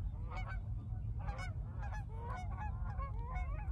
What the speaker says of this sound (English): there have been no geese here the entire time, and now they're flying in